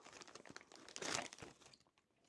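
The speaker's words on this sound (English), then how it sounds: "This is the XLR cable that I purchased to complement the mic. Let me just cut it through here." Plastic packaging around an XLR cable is cut and torn open, giving a quick close burst of crinkling and crunching that peaks and then fades, faint and with no voices.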